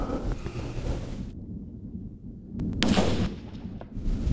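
A rifle shot fired uphill at a mule deer outdoors, a single sharp loud report with a rumbling echo trailing off, set against steady wind noise and a low outdoor hum.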